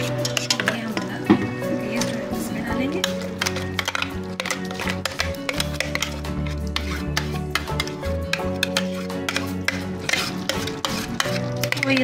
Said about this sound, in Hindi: अब हम इसको चिकन वाले बैटर में डालेंगे,